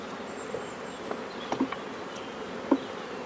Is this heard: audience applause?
no